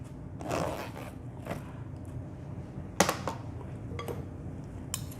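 Green mango salad with dried shrimp, mint and cilantro is tossed together in a bowl, giving soft repeated scrapes and light clinks with a few sharper knocks, close and fairly quiet, with no talking.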